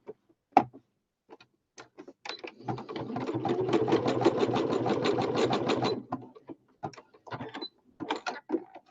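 A sewing machine running a stretch stitch that feeds like a walking foot: a rapid, even mechanical stitching burst lasting a few seconds, framed by a few isolated clicks and handling taps before and after.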